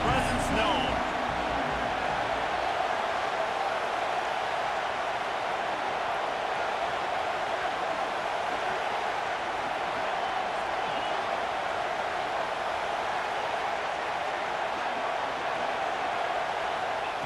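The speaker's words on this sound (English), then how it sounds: "This crowd ready to make its presence known." Stadium crowd in EA Sports College Football 26 fills the scene with a steady, dense roar that holds at the same level throughout, with a voice talking over it.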